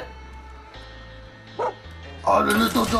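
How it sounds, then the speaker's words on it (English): A small dog barking and yipping in the video game Far Cry 5, a couple of short barks rising over steady game background noise, with a person talking excitedly over the final bark. "Oh, the little doggy!"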